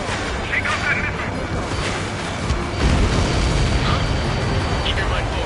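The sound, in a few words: explosion of destroyed enemy transport in video game Ace Combat 7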